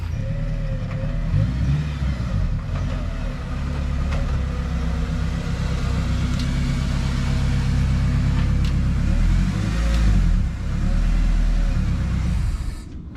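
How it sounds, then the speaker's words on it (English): An all-wheel-drive car engine idling with a sleeper exhaust setup and a deep, rumbling exhaust note, rising briefly in revs before settling, steady and close throughout. "I'm gonna go ahead and just move this car back into the driveway"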